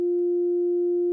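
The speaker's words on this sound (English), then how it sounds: "What you're hearing there is the sine wave." A Casio CZ-101 synthesizer holds a pure, steady sine wave tone, clean and loud for about a second with no other sound.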